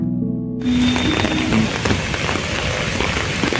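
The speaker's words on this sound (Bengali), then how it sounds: "বাইরে বেরিয়ে আসতে দেখি প্রচণ্ড বৃষ্টি" Heavy rain pours steadily in Mysore, a dense, loud, continuous hiss of drops hitting surfaces close by, starting abruptly after a brief moment of tonal sound.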